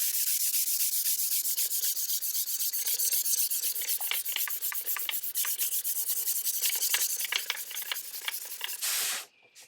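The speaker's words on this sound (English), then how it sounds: "this tabletop took me half a day to sand it, and this is only done with 120 grit" Hand sanding a wooden tabletop with 120 grit sandpaper, close and continuous rasping strokes in a quick repeating rhythm, ending with a brief knock before it stops.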